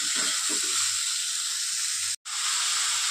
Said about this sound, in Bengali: দিয়ে এবার একটু ভাজা ভাজা করে দেবো